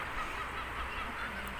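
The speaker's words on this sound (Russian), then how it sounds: "Смотри, такой огромный гусь." Faint honks from a large goose sound at a distance over a steady wash of outdoor background noise.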